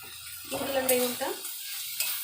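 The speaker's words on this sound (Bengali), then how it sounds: "দিয়ে যে নাড়িয়ে চাড়িয়ে নিচ্ছি।" Fried aubergine being stirred into fenugreek (methi) greens in a pan: a short burst of scraping, stirring strokes over a soft sizzle, close and fairly quiet, with no talking.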